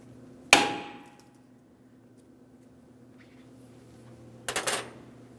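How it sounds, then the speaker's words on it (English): A hammer taps a rear wheel cylinder to free it from the brake backing plate on a 2003–2008 Toyota Matrix: one sharp metallic strike ringing out, then a quick cluster of several taps a few seconds later, close and clear. "I'm just going to tap on this area with a hammer"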